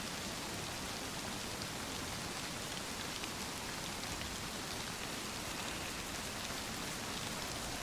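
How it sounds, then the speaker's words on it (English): Steady rain in DayZ pours continuously as a dense, even hiss of drops hitting surfaces, constant in level throughout with no voices. "Well, there's rain again."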